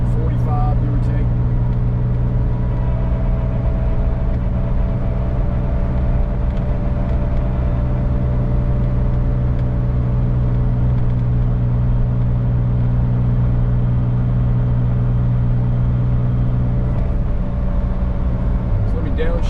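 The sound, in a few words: vintage Porsche 911 driving in fourth gear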